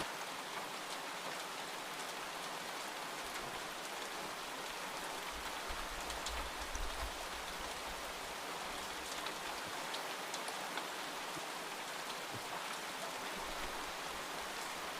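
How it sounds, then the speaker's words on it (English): Rain falls steadily on a greenhouse, heard from inside as a dense, even hiss of drops pattering on the roof, soft and continuous with no voices. "this is the most peaceful to be inside of the greenhouse while it's raining"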